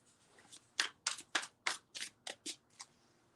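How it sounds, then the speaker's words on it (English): A deck of tarot cards is shuffled close by in a quiet room, giving about eight crisp, papery riffling bursts in a quick uneven rhythm with no talking. "I'm shuffling while I'm talking."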